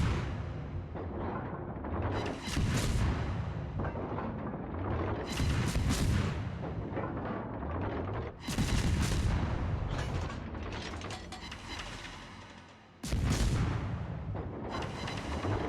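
Heavy warship guns boom in repeated salvos against an enemy ship in a naval video game, loud deep blasts recurring every few seconds over continuous rumbling battle noise.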